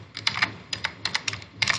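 Clusters of quick keystrokes rattle on a computer keyboard as an email ID is typed, a short burst of close, crisp clicks in uneven bunches with brief pauses between them.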